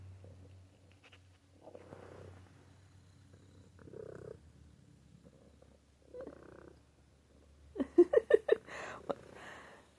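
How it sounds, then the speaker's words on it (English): A pet cat purrs with a faint, low, steady rumble, followed by a short burst of voice or laughter near the end. "she first started purring"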